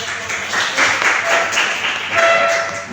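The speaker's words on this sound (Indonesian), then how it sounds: "kita berikan aplaus" Loud applause from a university class at FKIP Universitas Klabat for the first student group, a dense crowd of clapping that swells and ebbs over a few seconds.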